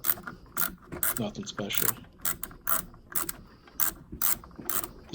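Ratcheting screwdriver backing long screws out of a Whirlpool refrigerator condenser motor kit, a rhythmic series of close, crisp clicks in repeated bursts, with a brief spoken remark partway through.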